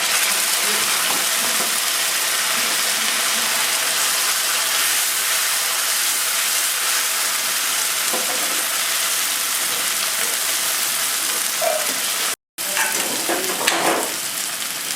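Potato dal hits fried onions in a hot pan, giving a loud, steady sizzle and hiss that runs unbroken, with a brief cut near the end and some faint stirring scrapes.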